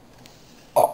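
A single short burp near the end during a family Uno card game at home, abrupt and fairly loud after a quiet lead-in.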